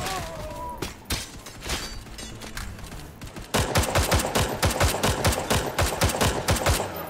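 Machine-gun suppressing fire rattles in the VR shooter Hard Bullet, with scattered shots and mechanical clatter at first, then a loud, rapid, sustained burst of evenly spaced rounds over the second half.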